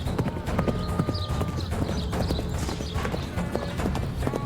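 Horse hooves clip-clop rapidly and steadily in the Tales of Glory video game, close and prominent, mixed with busy battle noise.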